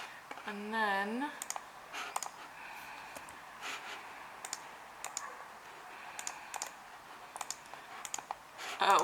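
A computer mouse clicked repeatedly in a quiet room, sharp light clicks spaced irregularly across the stretch with a brief vocal noise near the start.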